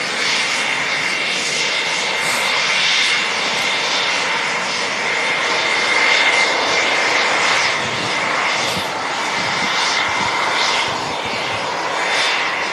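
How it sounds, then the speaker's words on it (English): A KLM Boeing 737-900 airliner on short final at Manchester Airport gives a loud, steady jet roar with a broad hiss that holds for the whole stretch, with no voices. "on short final as well, we have the KLM 737 900"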